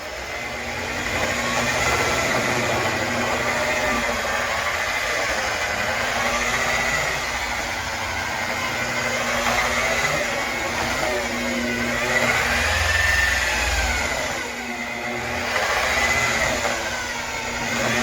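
A paint polishing machine runs on its low setting against the paint of a Chrysler 300 SRT8, giving a continuous moderate motor drone with slight rising and falling swells throughout.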